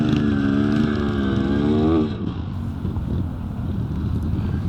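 A Yamaha DT125 motorcycle racing in a classic revival scramble, a loud close two-stroke engine note rising in pitch for two seconds before dropping away into rumble and wind buffeting.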